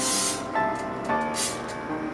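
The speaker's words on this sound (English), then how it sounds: "Make sure you spray the cookie cutters real well too so nothing sticks." Several short bursts of aerosol cooking spray hiss in quick succession onto cookie cutters, close by, with no talking.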